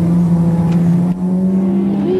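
A motorcycle engine drones loud and steady close by as the rider shifts and slowly eases out the clutch, the pitch holding then dipping briefly and rising slightly near the end.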